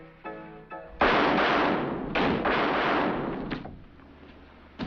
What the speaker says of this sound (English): That first flash of a shooting